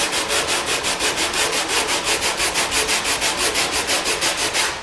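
Repetitive sanding strokes on a model stone trestle, a steady back-and-forth rasping rhythm of about five strokes per second, close and fairly loud with no talk.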